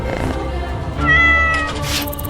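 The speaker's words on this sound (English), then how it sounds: "House cat," A house cat meows clearly and close by, a short run of two or three vocal calls with a rising, drawn-out cry near the end, alone without any talking.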